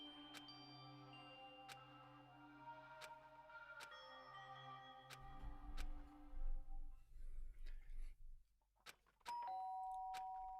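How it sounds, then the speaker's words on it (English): In the video game Danganronpa, a doorbell chime rings out clearly near the end. Before it comes a ticking musical passage and a low rumbling stretch, and there is no talk. "Ding dong."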